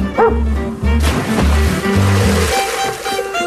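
A rescue dog that dives with scuba gear barks in a few loud, close yaps, with some water sound in the background.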